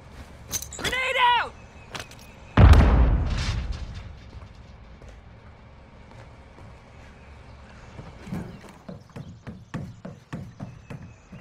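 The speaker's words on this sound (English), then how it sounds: "Grenade" A grenade goes off in Call of Duty: Warzone Mobile on the Verdansk battle royale map, one sharp, loud blast that fades slowly, with game sound effects before it and a run of quick clicks and taps afterward.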